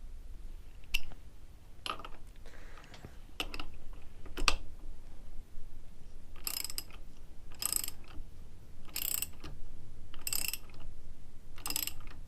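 A socket ratchet wrench turns on a Lucas magneto from a BSA B31, giving a series of short, close clicking bursts, sparse at first then in a steady run of ratcheting strokes.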